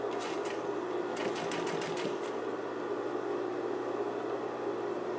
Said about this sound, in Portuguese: já costurei toda a volta do nosso vivo, ele tá todo embutido aqui dentro